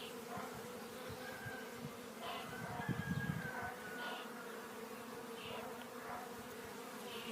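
A queen bee flies in circles around nucleus hives in a garden with trees and shrubs during her orientation flight, her buzzing hum rising and fading as she passes near, over a steady outdoor background.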